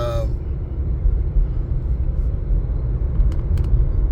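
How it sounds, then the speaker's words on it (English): A 2017 Ford Fiesta drives along, its interior filled with a steady low engine and road rumble. A few faint clicks are heard near the end, with no talking. "a 2017 Ford Fiesta I'm driving"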